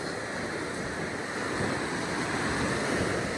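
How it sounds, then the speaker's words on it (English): Sea water raging beneath a coastal path at Cap Salou on the Costa Daurada, a continuous loud roar of churning surf mixed with wind rumble, steady throughout with no voices. "the water raging beneath me"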